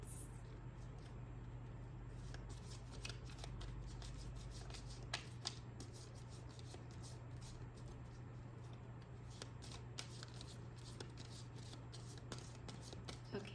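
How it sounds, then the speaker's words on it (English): Tarot cards being shuffled by hand during a general reading: a steady, continuous papery riffling and patter that runs the whole stretch at a moderate, close level, with no talking. "let's pull some positivity cards."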